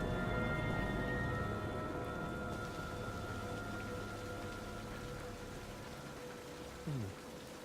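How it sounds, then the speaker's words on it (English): Steady rain hisses throughout a scene in the King's Quest video game, a constant wash of falling drops layered with soft sustained tones, fading gently toward the end. "All this rain should help this tree grow."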